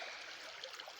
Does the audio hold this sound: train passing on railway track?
no